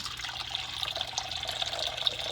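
Water poured back into a cleaned gecko water bowl in its tank, a close, continuous trickling splash with a bright bubbling texture, steady and unbroken for a couple of seconds.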